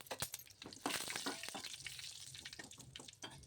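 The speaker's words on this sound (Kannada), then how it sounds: "ಸಾಸಿವೆ ಜೀರಿಗೆ ಹಾಕಿದ್ದೀನಿ. ಸಾಸಿವೆ ಜೀರಿಗೆ ಚಟಪಟ ಅಂದಿದ್ದಕ್ಕೆ ಈರುಳ್ಳಿ, ಕರ್ಬೇವಿನ ಸೊಪ್ಪು ಹಾಕಬೇಕು." Mustard seeds and cumin crackle and spit in hot oil for a Kannada buttermilk rasam tempering, with dense, busy popping and sizzling throughout, fairly close and steady, with no talking.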